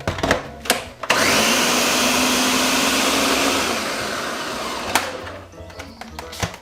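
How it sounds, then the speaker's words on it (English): A blender roars loudly for about four seconds, its motor whine steady then easing, with a few clicks and knocks before and after. "Put it in my blender and let's give it a whirl."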